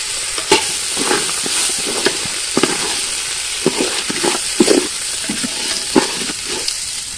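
Rice for mutton kacchi biryani is stirred in a pot with oil and a splash of water, giving a series of close scraping, sloshing strokes over a constant soft sizzle.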